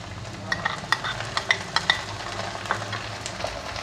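Ginger garlic paste spits and sizzles in a pan for Karachi-style chargha chicken biryani, a close steady hiss punctuated by a run of sharp stirring taps and pops, with no voices.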